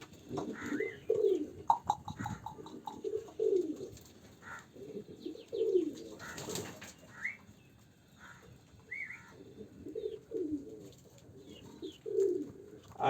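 Pigeons at a pigeon house coo repeatedly in soft, low, rolling phrases that come every couple of seconds, with a few higher whistles and flutters mixed in and no talking.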